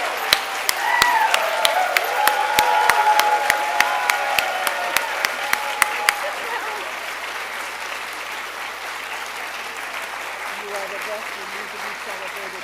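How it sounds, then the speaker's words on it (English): A museum audience in Baltimore gives a loud, dense round of applause that fades gradually to a quiet hum of room noise. "So I would like you all to stand and give her a rousing applause."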